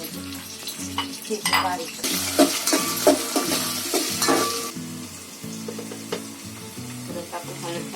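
Garlic fries in hot oil in a pan for a goat mutton curry, giving a loud steady sizzle with stirring scrapes and clinks of a spoon against metal, and brief speech near the start.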